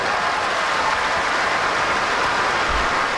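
Canned applause sound effect fired off during a sports talk radio broadcast, a dense, loud, unbroken hiss of clapping and crowd noise that runs steadily without any talk.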